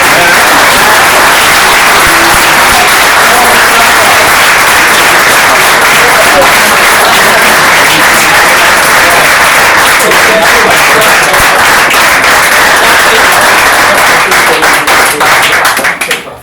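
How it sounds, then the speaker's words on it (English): Loud, sustained audience applause fills the room at a football club presentation afternoon, with dense clapping and crowd noise continuing strongly throughout before tapering right at the end. "deserve a massive round of applause"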